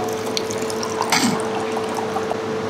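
A battery-operated sugarcane juice machine presses cane in a steady mechanical whir with faint liquid trickling and small ratcheting clicks, moderately loud and close, with no talking.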